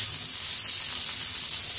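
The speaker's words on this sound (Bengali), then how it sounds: "এবার এই গরম তেলে আমি দিয়ে দিচ্ছি পেঁয়াজ কুচিটা" Chopped onion sizzling steadily in hot oil, cooked for chicken wontons; a dense, continuous hiss of frying with no talk over it.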